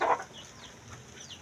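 A chicken clucks once in a short burst at the start, then fades into faint background ambience.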